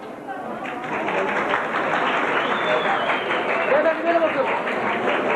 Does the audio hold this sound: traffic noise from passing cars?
no